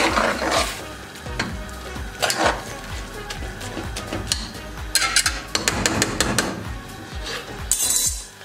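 Mustard greens saag for sarson ka saag being stirred in a pan, with repeated scraping and clinking of a spoon against metal over a steady low sizzle, close and fairly loud.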